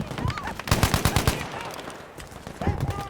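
Rapid bursts of automatic gunfire from a scoped Ribeyrolles rifle in Battlefield V, a dense string of close, sharp shots followed by a short pause and a fresh burst, with in-game sound layered around it.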